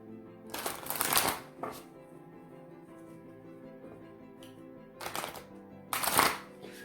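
A deck of divine animal oracle cards is riffled and shuffled up close in several crisp, rattling bursts, with quiet pauses in between.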